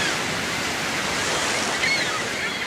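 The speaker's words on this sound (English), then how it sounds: "Radio waves sound great when you're next to ocean waves." Ocean waves used as a sound effect in a radio station promo give a continuous, full rushing surf, loud and steady without breaks.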